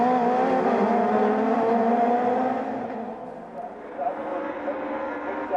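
Touring race cars, including a small BMW, run together in a 1997 Super Tourenwagen race at Lahr, their engines a steady roar that drops slightly mid-clip before swelling again, with commentary voices over the top.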